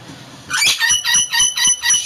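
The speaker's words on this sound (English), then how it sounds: "Fucking bird." A pet bird squawks indoors in a room, six harsh, rhythmic calls in quick succession, loud and close, with no talking over them.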